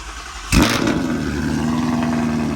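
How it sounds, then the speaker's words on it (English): Gen 3 Ford Mustang GT V8 cold starting close by: a sharp crank and bark as it catches, then a loud, steady, lumpy high idle rumbling on. "no better way to start this up with a cold start"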